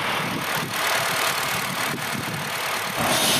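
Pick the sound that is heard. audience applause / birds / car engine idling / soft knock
car engine idling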